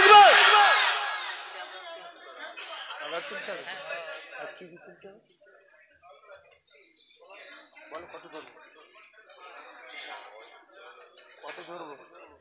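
Crowd of women at a Bangladeshi religious waz gathering shouting a takbir chant together, a loud burst of massed voices at first that fades into scattered, fainter calls and murmuring.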